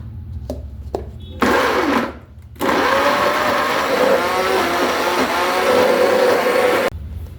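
A mixer grinder whirs loudly while grinding a masala paste with water, running in a steady high-pitched drone after a few short starting pulses and a brief pause, then cutting off abruptly.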